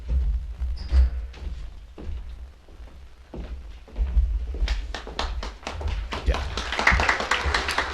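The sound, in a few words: audience applause at annual meeting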